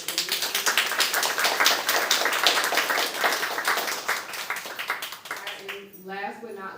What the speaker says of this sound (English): Give a round of applause for Ilyas.